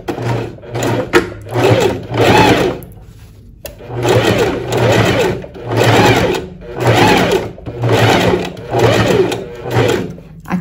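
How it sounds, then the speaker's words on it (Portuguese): A sewing machine runs a blouse seam in repeated bursts of rapid stitching, each lasting about a second with brief pauses between, close and loud throughout. "E continua com a costura"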